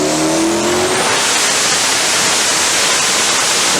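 A turbocharged 6-liter Pontiac Trans Am engine roars at full load on a dyno, loud and close throughout, its pitch climbing briefly at the start before settling into a sustained, saturated wall of engine noise.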